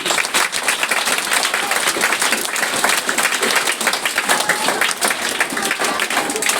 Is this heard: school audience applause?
yes